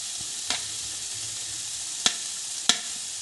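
Onions, with water still in them, go into a hot pan for fried momo filling, giving a low, uneven sizzle with three sharp stirring clicks; nobody speaks.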